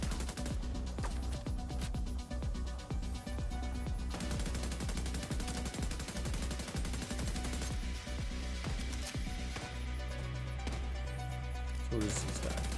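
Rapid gunfire from a shooter game, The Division 2, crackles almost without pause, dense bursts of shots layered over a loud, busy game mix with music and effects, close and sustained.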